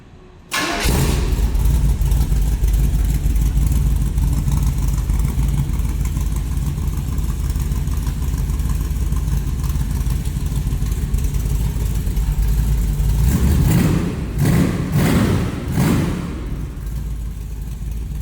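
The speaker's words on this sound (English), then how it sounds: "Let's go ahead and fire it up so you get an idea at least how it sounds." A 1994 Ford T-Bucket with side exhaust starts up close and loud, settles into a deep rumbling idle, then blips the throttle several times in quick revs before easing back down.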